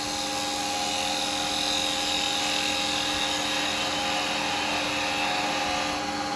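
Woodturning a rough piece of firewood on a lathe with a carbide tool: a steady, loud whirring and cutting hiss runs without a break, with no talk.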